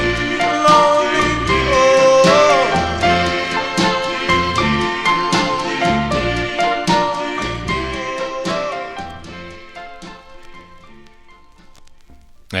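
A 1958 doo-wop single, a Cub label 45, plays loud and close with harmonised vocals and backing instruments, fading out toward the end of the song.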